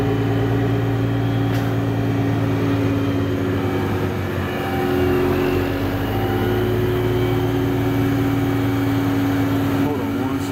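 A Metro North locomotive engine sits at low idle in a train yard, giving a continuous, steady drone with a strong low hum that barely changes throughout.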